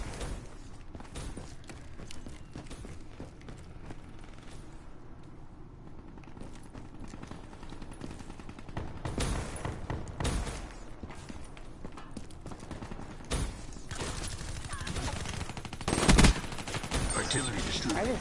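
M8 rifle fire in a Call of Duty-style multiplayer match, with repeated sharp shots and bursts scattered over a busy battle background, louder toward the middle and end, under occasional talk.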